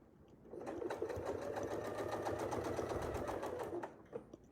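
A sewing machine stitches a quilting diamond along a Westalee Sashlee template, running as one continuous fast mechanical whir with rapid needle clatter for about three seconds, close and alone, before it stops.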